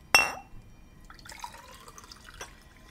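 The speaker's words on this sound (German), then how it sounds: "Kurz Wasser eingießen." Water poured in Fortnite's LEGO mode, opening with a sharp glassy splash and then light trickling and dripping sounds, faint and short.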